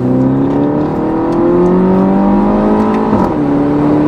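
A Mini JCW with a 231 hp engine revs in sport mode inside the car, a loud, rising engine drone with a brief dip and shift near the end, heard without talk.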